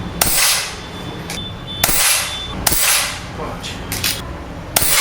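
A PX100 air rifle fires indoors at targets about 22 m away, four sharp, close cracks spaced about a second apart, with someone speaking between shots.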